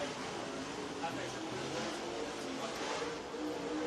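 Dirt track race cars roll around Lake Cumberland Speedway in Burnside, Kentucky, their engines a steady, broad roar from a distance, heard under a track announcer's continuous commentary.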